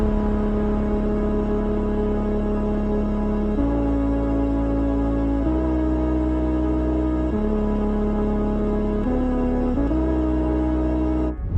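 Sustained ambient atmosphere pad from the Atmos Sample Pack Volume 2, steady droning tones that shift to new held chords every couple of seconds, loud and continuous with no voices.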